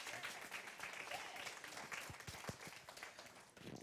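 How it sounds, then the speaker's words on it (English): Audience applause at a Sunday church celebration, a steady wash of clapping for the full few seconds, moderately faint, with a few sharper individual claps standing out near the end. "Can we give Warren another round of applause?"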